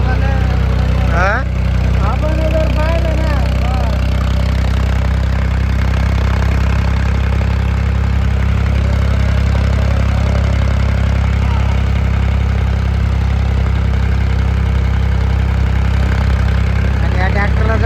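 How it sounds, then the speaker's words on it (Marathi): An old International tractor engine runs at night with a steady, loud, low mechanical drone throughout, while a voice is heard briefly near the start. "ओल्ड ओल्ड ट्रॅक्टर आहे ते"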